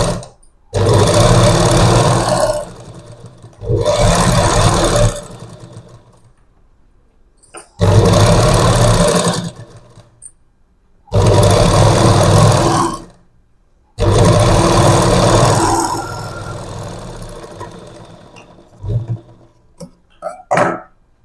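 A sewing machine stitches along a blouse waist in five loud, close bursts of rapid whirring, each lasting about two seconds and separated by short pauses, the last run trailing off into quieter, uneven stitching.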